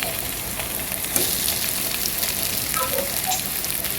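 Mrigal fish pieces fry in a pan with browned onions, giving a steady, even hiss and sizzle close by with no talking.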